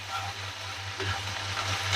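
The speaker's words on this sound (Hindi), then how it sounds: "इसको इसी तरह चला लेंगे बस।" Okra frying in a pan is stirred, giving a close, even sizzle with soft utensil movements over a steady low hum, no voices.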